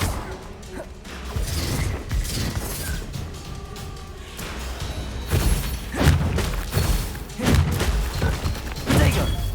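Spell effects from a Harry Potter video game, including the Confringo blast, come as a run of booms, crashes and whooshes layered over game sound, several strong hits landing in quick succession.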